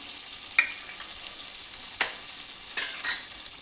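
Asafoetida and salt dropped into hot oil for a fresh turmeric pickle give three short, sharp sizzling bursts over a faint steady crackle, close by and with no voices.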